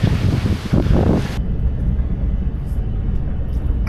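Strong outdoor wind buffets the microphone with a loud, steady roar and rumble, easing slightly after a heavy first gust, with no one speaking.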